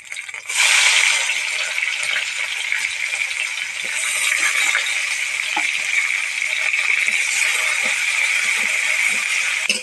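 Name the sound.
onions frying in oil in a wok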